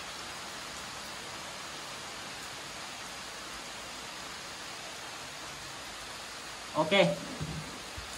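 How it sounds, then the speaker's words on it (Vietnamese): Rain falls outside at night as a faint, steady hiss that runs evenly throughout, with a brief spoken word near the end. "Đây tuy là trời mưa."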